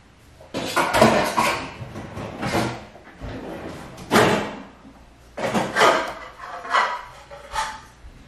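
Metal saucepans, among them the smallest of a set with handles, are picked up and set down in a series of clattering bursts, close and fairly loud, with short quiet gaps between the knocks and scrapes.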